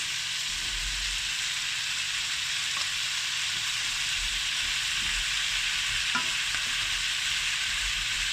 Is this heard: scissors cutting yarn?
no